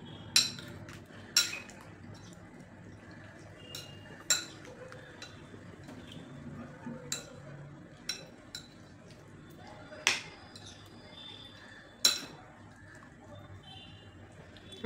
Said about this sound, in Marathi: आपल्याला ही कँडी परत हलवून घ्यायची.